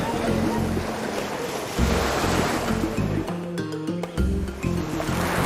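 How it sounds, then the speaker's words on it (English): Waves wash through a busy Phoenician harbor crowded with war galleys and merchant ships in the game Call of Atlantis, a steady watery surge and rumble beneath sustained musical tones. "The huge harbor throngs with vessels from all over the world, war galleys and merchant ships jostling for position"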